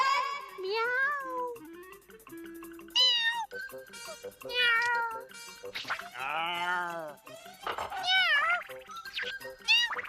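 Several cats meow repeatedly, high wavering cries overlapping one another at close range, with short pauses between calls.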